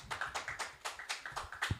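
Hands clapping at a scout gathering of Bontang junior high school students, a quick run of sharp claps, roughly eight, at moderate level with no talk over them.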